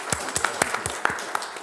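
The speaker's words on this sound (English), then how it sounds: "I'd like to give a round of applause to our employers" Scattered claps from a small audience at a co-op employer forum, a handful of sharp hand strikes at an uneven rhythm, sparse and moderately close rather than a full ovation.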